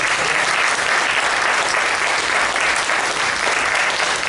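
Applause from a small audience at the close of a table reading, dense and steady clapping that stays at an even level for the whole span, with no talk over it.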